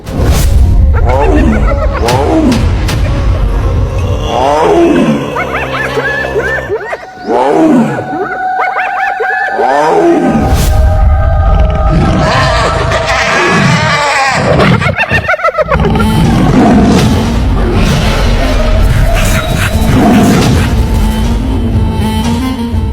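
Loud, continuous animal roars and snarling growls clash without pause as a hyena and a tiger fight close by.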